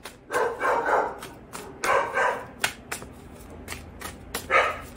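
A dog barks repeatedly in short, loud bursts close by, with brief gaps between clusters of barks and no talking.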